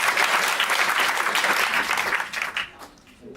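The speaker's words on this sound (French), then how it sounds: "Si on peut les applaudir d'être là avec nous." An audience at a public meeting breaks into dense, sustained applause, loud and close, tapering off toward the end.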